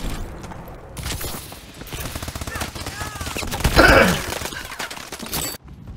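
Sustained automatic gunfire from the AE4 DLC weapon in a military shooter video game crackles in dense bursts, peaking with a sharp shattering blast near the end, over game effects and faint radio chatter.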